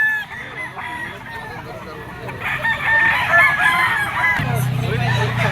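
A Boston Sweater bloodline gamefowl rooster crows nearby at a busy pet market, its call rising over clucks and other fowl while faint chatter from the crowd runs beneath.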